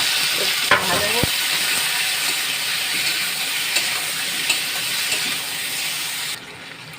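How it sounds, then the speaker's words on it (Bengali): Pumpkin and potato pieces fry in a pan in hot oil with cumin seeds, giving a steady bright sizzle, with a couple of stirring scrapes near the start and the hiss dropping off at the end. "কুমড়ো আর আলুগুলো সব দিয়ে ভাজবো"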